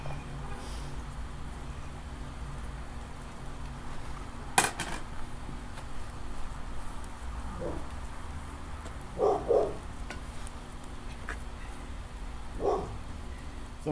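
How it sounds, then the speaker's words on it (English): A neighbour's dog barks outdoors several times, sounding distant and intermittent, with a few short barks spread across the clip. A steady background hum runs underneath and no one speaks. "the dog next door agrees with everything that I'm saying."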